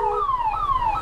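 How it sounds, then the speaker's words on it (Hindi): An ambulance siren caught in a long traffic jam wails loudly and steadily, its pitch sweeping up and down in repeated cycles with no pause throughout. "टेंशन एम्बुलेंस यहाँ पे फंसी हुई है"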